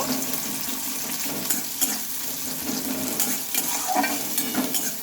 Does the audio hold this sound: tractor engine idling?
no